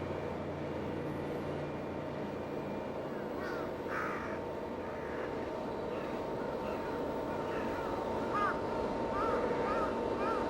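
Crows in a video game give scattered caws from a distance, faint and intermittent over a steady background hum of game ambience.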